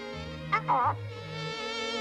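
Insect-like buzzing, as of bees in the countryside, drones steadily through the clip with a brief louder burst near the middle and a low hum underneath.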